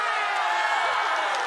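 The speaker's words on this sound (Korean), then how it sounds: "함성!" A concert crowd at a Korean pop music show cheers and shouts loudly on cue, a bright sustained roar of many voices filling the hall.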